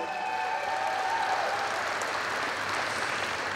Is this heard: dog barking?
no